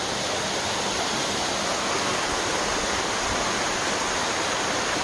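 Likeke Falls waterfall pouring steadily, a loud continuous broadband rush of falling water that fills the whole clip without pause, with no voices over it.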